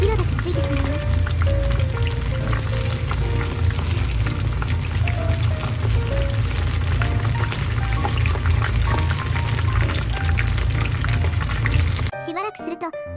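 Sardines deep-fry in hot oil with a dense, steady sizzle and crackle that fills the whole stretch, while a voice talks over it and soft music plays, before it breaks off abruptly near the end.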